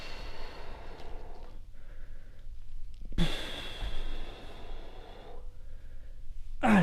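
A runner blows out hard breaths during a stride drill, a loud burst of exhaled air rising in the middle and more breathing sounds before and after against a steady low background rumble.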